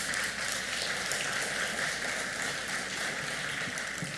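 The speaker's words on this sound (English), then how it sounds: "Let's give him another round of applause." Crowd applause at a medical school class day ceremony, an even hiss-like wash of many hands clapping at moderate volume, continuous throughout with no voices.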